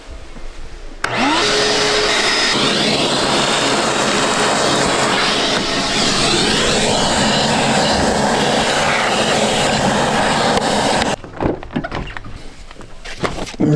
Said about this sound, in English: I'm gonna probably get my shop vac out and just vacuum this stuff out